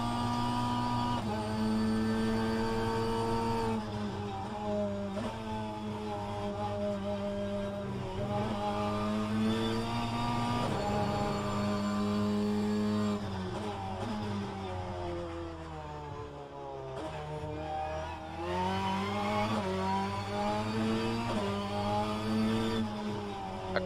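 A front-wheel-drive BTCC touring car engine in the rFactor 2 racing game, at Brands Hatch or Donington, howls through repeated upshifts and downshifts, its pitch climbing and dropping over a long, steady, loud stretch with no talking.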